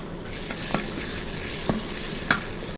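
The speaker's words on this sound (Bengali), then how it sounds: "এখন আদা রসুন দিয়ে ভেজে নিব।" Ginger and garlic fry in hot oil in a pan, a steady soft sizzle broken by a few sharp clinks of stirring, close and continuous with no voices.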